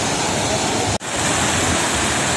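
Fast, swollen Ganga river water rushing at Haridwar, a loud, steady broadband roar close by with one brief dropout partway through.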